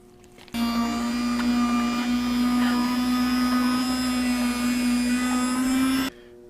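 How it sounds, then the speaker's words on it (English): A Wesson electric meat slicer runs steadily for about five and a half seconds while cutting sirloin tip for jerky, a loud, even motor whine with a constant hum and no pauses, starting and stopping abruptly. "I have just a Wesson meat slicer."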